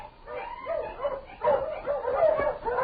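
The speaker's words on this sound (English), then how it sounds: "suddenly I heard a dog" Whining, yelping barks from a husky out on a snowy Yukon sled trail repeat in short bursts at moderate distance, with no talk.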